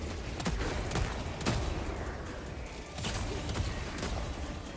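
Autocannon sentry firing in Helldivers 2, a run of heavy mechanical shots and clanks repeating at an uneven pace, fairly loud and close with no voices over it.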